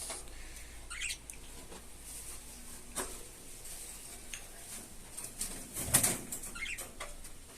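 Budgerigars kept in pairs in small and large cages give faint, sporadic chirps over a quiet room, with a few soft knocks and clatters.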